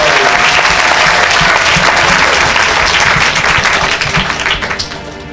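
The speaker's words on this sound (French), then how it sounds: "Acclamez." Sustained loud applause from a church audience at an evangelistic meeting, steady dense clapping throughout that thins slightly near the end.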